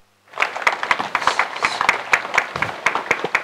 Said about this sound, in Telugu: డయాస్పై రావాల్సిందిగా గట్టిగా చప్పట్లతో